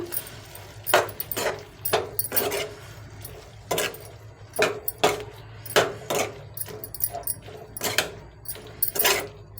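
Butter mushroom fry with chilli powder, salt and tomato being stirred in a pan, a spoon scraping and clinking against the metal in repeated, uneven strokes at close range.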